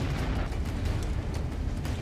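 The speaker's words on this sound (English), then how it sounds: "The first kamikaze drone flies in and instantly causes a fire." Kamikaze drone strike on a Russian armored personnel carrier, setting it on fire: a dense, continuous low roar of blast and burning with scattered crackling pops, loud and steady throughout.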